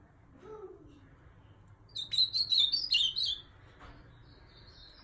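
A female blue grosbeak (azulão) sings in the open, a short burst of bright, rapid chirping notes lasting about a second and a half, fairly close, with a brief lower call before it and quiet background noise.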